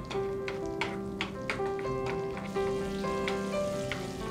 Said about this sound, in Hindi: बटर में हम थोड़ा लहसुन डालेंगे, एकदम बारीक कटा हुआ, और इसको एक से दो मिनट तक मध्यम आंच पे भूनेंगे